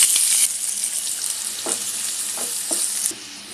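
Onion and cumin sizzling in three spoonfuls of hot oil in a kadhai as a tempering is started for jackfruit vegetable, a loud steady fry with brief stirring scrapes, fading slightly after the first moment.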